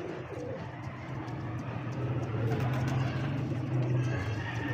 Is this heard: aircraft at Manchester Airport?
no